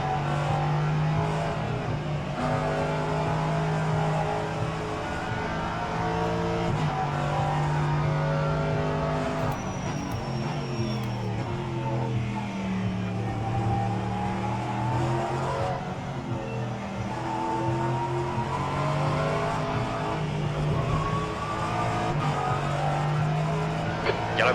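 An LMP3 race car in rFactor 2 at Thruxton, its engine revving hard and steady throughout, with pitch climbing and falling through gear changes. A voice talks briefly over the continuous loud engine drone.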